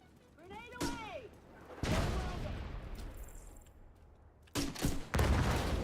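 A grenade lobbed in a shooter video game detonates with a heavy booming blast, followed by more thudding, gunfire-like bursts spread across the few seconds, with faint voices in the background.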